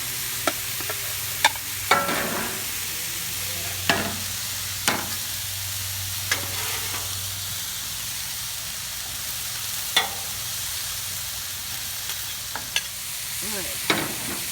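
Mushrooms fry on a Blackstone griddle with a continuous soft sizzle, punctuated by repeated sharp metallic scrapes and taps of a spatula stirring them, close and alone without speech.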